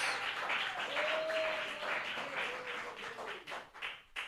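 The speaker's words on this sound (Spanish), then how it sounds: "Palmas para Jesus. Palmas para Cristo Jesús." Church congregation applauding during a bilingual Portuguese-Spanish sermon, a sustained wash of claps that thins out and tails off toward the end, with a voice briefly rising over it.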